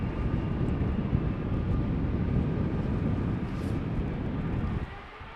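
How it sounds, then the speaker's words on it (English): A TUI airliner makes a derated takeoff roll from runway 36L at Amsterdam Schiphol on a windy day, its broad engine roar steady and loud throughout before easing off at the very end. "It sounds like a derated takeoff as well."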